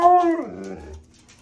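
A single husky howls close by, a rising then falling wavering cry lasting about a second before trailing off into quiet.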